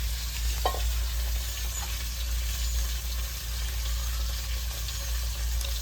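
Fresh river fish frying in a pan, a steady close sizzle and crackle of hot oil with a faint low hum beneath and one brief clink early on.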